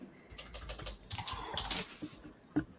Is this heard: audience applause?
no